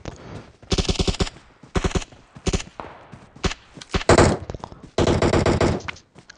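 Automatic gunfire in the mobile battle royale game PUBG Mobile, loud repeated bursts of rapid shots with short gaps between them, close and dominant, ending in a long sustained burst.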